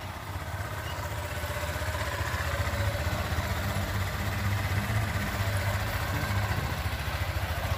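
A motorcycle engine idles and revs gently on a rain-soaked test ramp during a riding exam, a steady close mid-pitched drone with a slight rise in throttle and no break.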